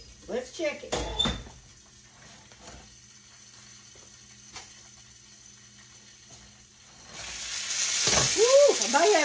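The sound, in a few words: chicken wing drumsticks frying in a pan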